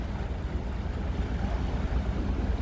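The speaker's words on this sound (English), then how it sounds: "We have a ship coming at us in the river." Large ship passing close on a turquoise river, a low, steady rumble with broad wind and water noise, continuous and fairly quiet with no voices.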